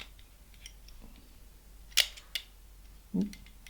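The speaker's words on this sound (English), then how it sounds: "I pressed the release shutter and that helped it." The shutter mechanism of a Kodak Instamatic 100 camera, under disassembly, gives a few sharp close mechanical clicks and a soft thud among quiet handling noise.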